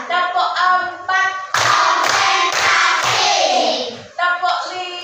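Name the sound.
class clapping a counted clap pattern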